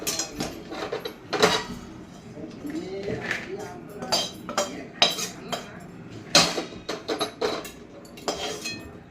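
Roasted dry dates are tipped out of a metal pan with repeated clattering, scraping and clinking of utensils against the pan, close by, while a voice talks over the kitchen noise.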